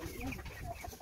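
A flock of chickens, vaccinated against coryza, clucks softly at a distance in a short, faint burst of scattered low calls.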